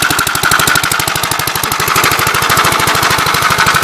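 A 1950s engine runs loud and close after being restarted, with a fast, even chugging pulse that holds steady throughout with no voices.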